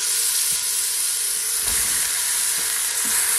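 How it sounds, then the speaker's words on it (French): Courgettes sizzle and fry in oil in a pan, a steady close hiss running throughout with a few soft stirring knocks. "je vais rajouter une cuillerée à soupe d'huile. Hop, je vais mettre mes courgettes."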